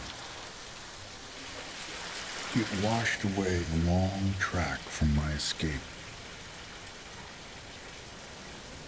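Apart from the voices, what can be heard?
heavy rain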